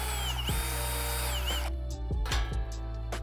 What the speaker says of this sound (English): Don't forget to drill your hole to hang the turkey.